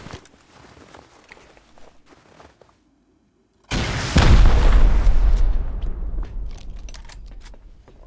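A rocket explodes during a base raid in the survival game Rust. Quiet footsteps and ambience cut to silence, then one sudden, loud, close boom hits and rolls into a long, rumbling decay.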